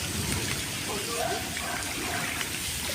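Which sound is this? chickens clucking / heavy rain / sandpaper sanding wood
heavy rain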